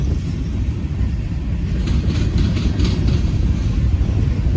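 A Norfolk Southern freight train rolls past on the inside main track, a loud, continuous low rumble of passing cars with faint rhythmic clatter and no talking.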